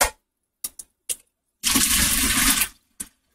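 Water runs briefly into a kitchen sink while pasta is strained, a dense rushing pour of about one second set between a few short clatters and knocks, loud and close with no talking.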